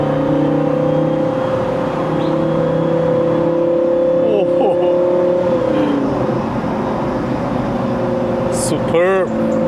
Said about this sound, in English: you can hear the mechanical sounds of that car